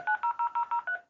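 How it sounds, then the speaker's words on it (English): An Ooma VOIP phone plays six short, evenly spaced dialing tones, clean and moderately loud, with nothing else behind them. "So if I'm going to pick up the phone,"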